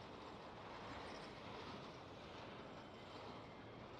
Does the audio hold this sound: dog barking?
no